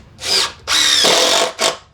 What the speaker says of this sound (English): Personally, I like screwing my bulkheads.